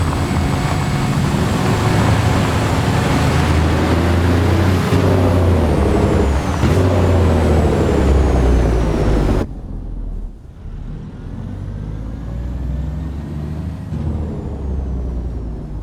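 A Cummins 600 truck engine in American Truck Simulator drones loud and steady, its pitch sweeping up and down as the rig accelerates and shifts, then drops to a lower rumble partway through.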